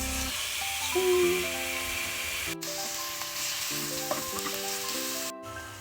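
Chicken breast frying in olive oil in a pan, a loud, steady sizzle and hiss close up, continuing throughout with a few stirring scrapes and no talking.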